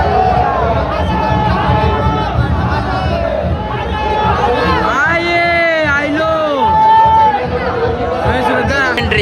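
A dense temple crowd at a palkhi procession, with loud close chatter and babble throughout, shouts and whoops rising over the din and several voices talking nearby.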